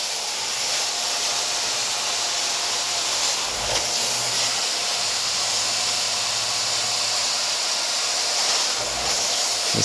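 A carpet cleaning wand makes dry strokes over commercial carpet, giving a steady, loud, close rushing hiss of suction and airflow with slight surges, continuous and without talk.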